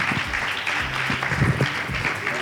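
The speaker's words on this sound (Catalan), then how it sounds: "Un aplaudiment per a Paco Gómez" A Fallas crowd in Valencia applauds the mayor, Paco Gómez: a short, dense wash of many hands clapping close and loud, steady throughout with no break.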